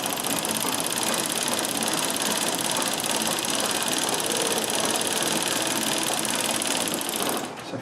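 A Singer 24-52 sewing machine stitches fabric at high speed, a loud, continuous, rapid mechanical whir close by that holds steady throughout and eases off at the very end.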